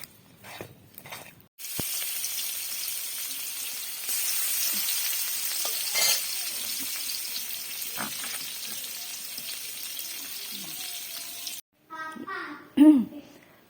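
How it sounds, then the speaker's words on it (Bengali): Fish drops into hot oil in a wok and fries with a loud, steady hiss for about ten seconds, bracketed by a voice before and after. "আর এই তো মাছটা এখন ভেজে নেব।"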